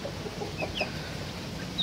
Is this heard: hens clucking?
yes